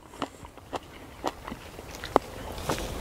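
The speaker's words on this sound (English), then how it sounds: "Sure, it sounds disgustingly loud, but they're a nice crunchy apple." Crisp crunchy bites into a Spartan apple, about five sharp crunches spaced roughly half a second apart, close and loud, with no talking.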